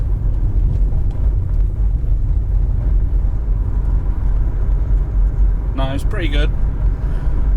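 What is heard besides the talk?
BMW 120D driving off-road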